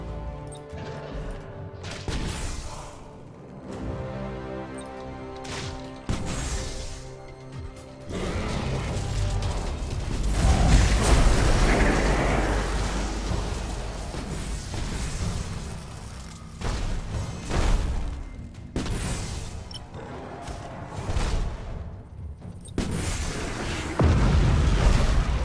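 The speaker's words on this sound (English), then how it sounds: "Fire going downrange." Ship weapons fire and explosions from a space battle against Tyranids in Battlefleet Gothic Armada 2, with booming blasts, crashing impacts and mechanical whirs layered densely over a musical score, loud and continuous throughout.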